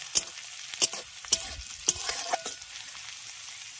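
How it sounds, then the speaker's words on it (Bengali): Garlic, onion and green chili fry in a pan with a steady sizzle, punctuated by several sharp scraping stirs of a spatula at irregular intervals, close and fairly loud with no talking. "রসুন পেঁয়াজ আর কাঁচা লঙ্কাটাকে আগে একটু ভেজে নিচ্ছি"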